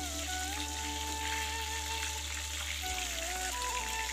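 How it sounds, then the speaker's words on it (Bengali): Chital fish pieces, just flipped in a pan with onion, fry in oil with a soft, even sizzle that runs continuously at low level, alongside a steady low background hum. "এখন মাছগুলো আমি উল্টে দিচ্ছি"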